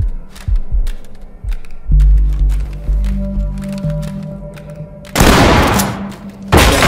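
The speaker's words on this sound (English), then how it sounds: "Blow the lock. Deploy flashbangs and clear." In the Ready or Not tactical shooter, a SWAT team blows a door lock and deploys flashbangs: thuds and clanks build to two loud bursts of blast noise near the end, with no voices.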